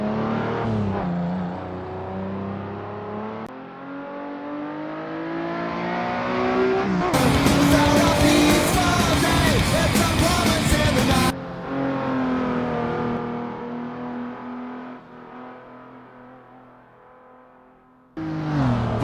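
A race car lapping a circuit at full throttle, braking into Hammerhead and sliding through Cambo: a loud, close engine rises and falls through gear changes and peaks in a harsh roaring burst before settling into steady revving.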